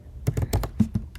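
Keystrokes on a computer keyboard while coding a Mario game in Scratch, roughly seven quick, uneven taps close by, alone with no speech.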